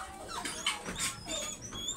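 A small puppy whimpers and yips in soft, high, wavering cries that repeat through the moment, fairly close and alone with no talk.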